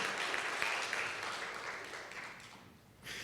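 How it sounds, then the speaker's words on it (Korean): A church congregation applauds to welcome newcomers during a Sunday service, giving a soft, steady patter of clapping that tapers off before a short swell at the end. "우리 박수로 환영합니다"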